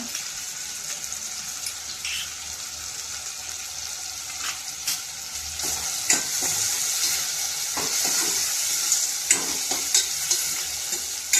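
Crushed garlic and tomato sizzle in a frying pan for a spicy eggplant curry, a steady broad hiss of frying with occasional stirring clicks and spatters throughout, close and fairly loud with no talking.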